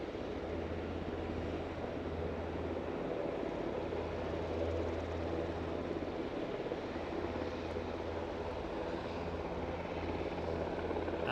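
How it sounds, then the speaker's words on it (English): A KLM Embraer jet, probably an E192, on final approach at Aberdeen airport on a sunny day, giving a steady, moderately distant engine roar with a low hum that holds throughout. "And that is an inbound KLM, an Embraer, well, I assume it's a 192."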